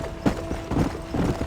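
Horse galloping in the video game Red Dead Redemption, heard as a quick rhythmic pattern of hoofbeats in repeated clusters, close and fairly loud with steady background noise.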